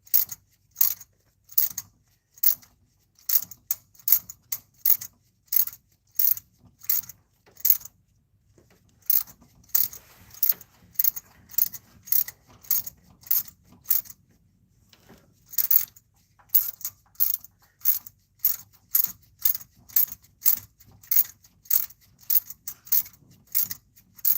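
A tap is worked through the head stud threads of a 1996–2005 Chevy Astro engine, giving a steady run of sharp metallic clicks at a regular ratcheting rhythm, close and distinct, with one brief pause midway and no talking.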